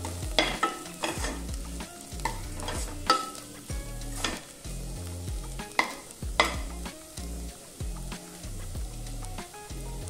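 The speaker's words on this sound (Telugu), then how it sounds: "కొద్దిగా ఉప్పు వేసుకొని ఈ మసాలాలు బాగా వేపుకోవాలి" Masala spiced with chili powder and salt fries in a pan with a soft, close sizzle broken by repeated scraping and stirring strokes of a spoon, set to quiet background music.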